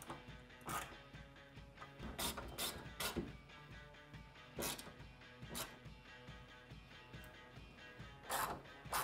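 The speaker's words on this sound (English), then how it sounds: "you can make your final adjustments and tighten all of the hardware down." Ratchet tightening hardware on a Tusk UTV upgrade kit for a Polaris RZR Pro XP 4 / Turbo R 4, quick close clicking bursts in short irregular spurts with metallic mechanism noise between them.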